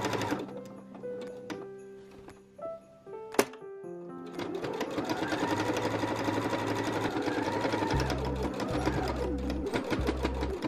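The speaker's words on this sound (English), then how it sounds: "we are going to then place those pieces right sides together to sew our side seams and our bottom seams" A sewing machine stitches quilted fabric bag pieces. After a few scattered clicks and short pauses it settles into a fast, rhythmic, close mechanical whir of needle strokes that carries to the end, with no talking.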